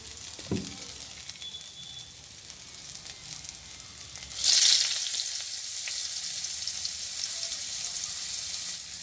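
Onion frying in oil in a pan during home village cooking, with a strong sizzle surging in midway as the onion goes in, then a steady hiss continuing, after a brief clank earlier.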